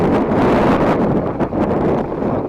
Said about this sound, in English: Ever since the wind came up,